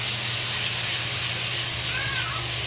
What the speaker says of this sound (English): You just fry like this.